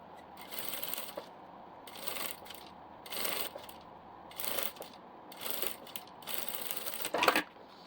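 Sewing machine stitching a seam on a diaper bag, six short bursts of rapid mechanical whirring separated by quiet pauses, close and fairly soft with no talk.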